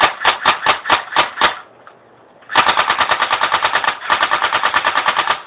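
A handgun fired in rapid bursts, loud and close: a string of evenly spaced shots, a brief pause, then longer fast volleys of sharp cracks in steady rhythm with no talking.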